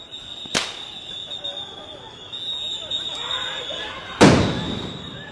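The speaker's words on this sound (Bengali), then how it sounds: "সাউন্ড গ্রেনেড মারছেন" Police sound grenades go off during a street clash between Dhaka College and City College students at Science Lab, with two sharp, loud bangs several seconds apart over chaotic crowd noise and a person talking.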